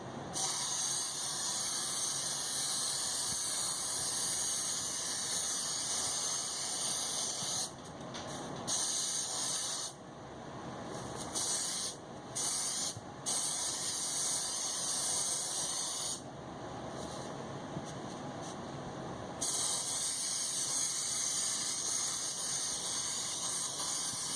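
A long, steady hiss of spray glue from a can onto a foam headpiece with pool noodle pieces, broken by a few brief pauses, loud and close.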